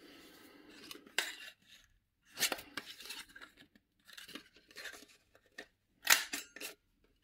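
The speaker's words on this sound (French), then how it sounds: "Coupe parfaitement bien." Scissors snip through paper offcuts meant for a scrapbook album, coming as several separate close bursts of crisp cutting with short pauses between them.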